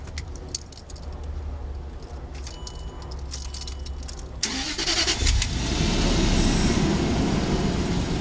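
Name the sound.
2007 Range Rover Sport Supercharged engine starting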